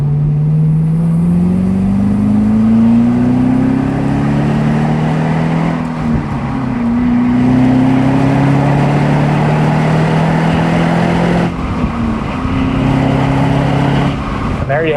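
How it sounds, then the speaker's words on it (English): Supercharged 6.2-litre 2011 Cadillac CTS-V with a six-speed manual pulling hard through second and third gear on blacktop, engine note climbing loudly with a brief dip at the shift, heard from inside the car. "We'll do a little second, third gear pull here on this black top."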